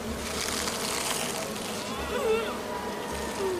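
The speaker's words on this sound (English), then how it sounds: "he's hiding a torso full of bees. Bees!" A dense, steady buzzing of bees fills the scene, with voices talking over it.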